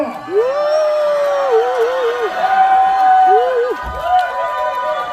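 A cinema audience at a stage greeting for the film Boss cheers and shouts in long, sustained high-pitched screams, loud and continuous with crowd noise underneath.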